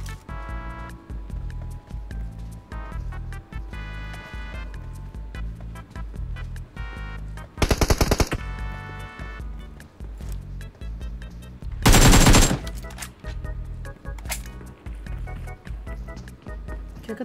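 AKM assault rifle fire in PUBG Mobile, two loud bursts of automatic shots standing out over steady game music and ambience.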